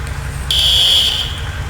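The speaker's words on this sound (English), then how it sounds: "two setups of our fire alarm and sprinkler and smoke detector system" A fire alarm in the EmergeNYC video game sounds suddenly as a loud, piercing, continuous high electronic tone. It holds steadily for about half a second and then drops to a softer sustained buzz over a low background rumble.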